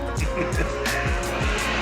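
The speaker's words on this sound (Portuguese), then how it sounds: "Deixa eu passar essa moto aqui." Engine noise from a vehicle on the road overtaking a motorcycle, steady loud drone with rhythmic low pulses and bursts of higher rush, fairly close.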